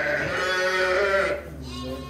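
Sakız sheep and their young lambs bleat at close range on a farm, with one drawn-out, wavering bleat followed by a softer, fading call.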